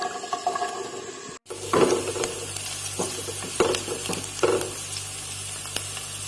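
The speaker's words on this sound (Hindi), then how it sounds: "ये एक प्याज डाल रही हूँ।" An onion dropped into a hot pan for macaroni, a brief silence followed by a steady close sizzle with several stirring scrapes and clatters, no voices.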